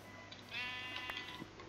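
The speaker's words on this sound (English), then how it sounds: "That's the sheep." A sheep bleats in the Minecraft video game, a fairly loud wavering cry at moderate distance, heard alone with no talking.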